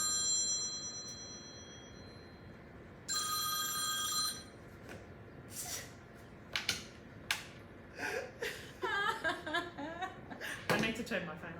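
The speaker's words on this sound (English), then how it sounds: "I need to turn my phone off." A mobile phone rings in two bursts of bright electronic tones, loud and close, then gives way to chatter and laughter from people nearby.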